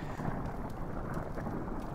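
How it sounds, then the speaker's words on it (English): Low rolling thunder rumbles continuously through a storm ambience in the horror video game Amnesia: The Dark Descent, a steady dense roar with faint crackles, no voices. "Oh, it's thunder."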